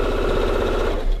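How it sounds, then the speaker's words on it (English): A sewing machine runs steadily, stitching a seam on a Lady Elizabeth quilt block, a close, continuous mechanical whir with fast regular stitching rhythm. "I'm going to sew that seam"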